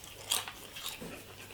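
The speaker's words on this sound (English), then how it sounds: "These fries sound pretty crispy." Crispy air-fried french fries being bitten close up, giving a sharp crunch followed by a few softer chewing crackles, with no talking.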